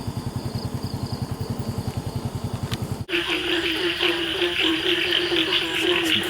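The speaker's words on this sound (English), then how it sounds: "Some frogs down here." Frogs calling after a heavy rainstorm in Bali, a fast, steady pulsing croak chorus that cuts off abruptly into a dense, buzzing wash of night insects and wet-weather ambience.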